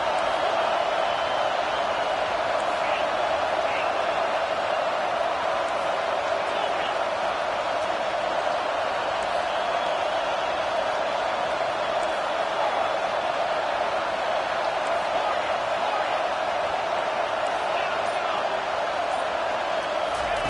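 Football stadium crowd roaring steadily on third down, a dense, continuous wall of distant cheering with no pauses across the whole stretch.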